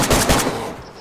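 A single loud gunshot in the survival game DayZ, a sharp close blast with a quick follow-up crack that rings out and fades within a second.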